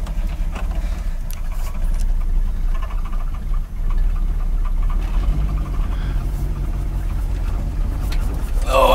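A 1959 Mercury Monterey engine, woken after a decade asleep, runs with a steady low rumble heard from inside the car, holding an even, loud drone with a brief dip partway and some rattle near the end.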